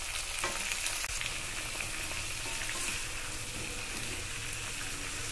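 Flat beans and chicken skin fry over a medium-high flame in a pan, a dense, even crackling sizzle that fills the whole stretch, with a few scrapes of stirring near the start.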